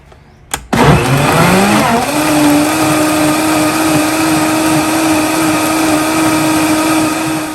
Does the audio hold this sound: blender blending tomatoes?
yes